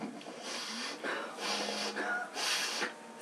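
A person does an exaggerated wheezing breathing exercise, four long raspy rushes of breath with short gaps between them, loud and close, alone without talk.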